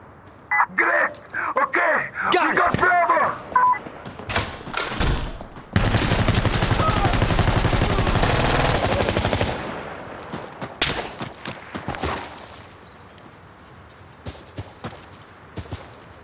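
Vector submachine gun in Insurgency Sandstorm firing several short bursts early on, then a long sustained stream of rapid automatic fire, followed by scattered shots and gameplay noise, with a voice talking in places.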